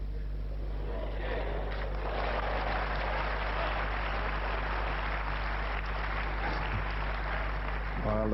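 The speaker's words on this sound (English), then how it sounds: "Nice generous round of applause for a fluke" A snooker crowd at a match between Ronnie O'Sullivan and John Higgins applauds after a fluke, a steady wash of clapping over a low broadcast hum lasting several seconds before tailing off.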